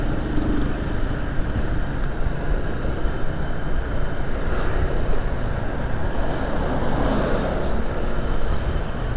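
Dense late-afternoon rush-hour traffic surrounds a rider on a Vario 160 motorbike, a constant loud rumble of engines and wind noise close in, with no clear voices.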